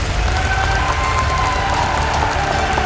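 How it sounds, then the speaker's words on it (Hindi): Loud, sustained applause and cheering fill a large hall at an RCM Business red carpet celebration for Team Champion, a dense roar of clapping and crowd noise with no pause. "पूरी टीम चैंपियन के लिए जोरदार तालियां बजाएं एक बार"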